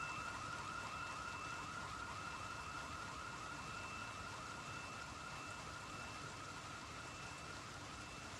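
Alarm going off in Project Zomboid, a steady warbling electronic siren cycling continuously at moderate volume over a dense hiss of rain-like noise, with no pause throughout.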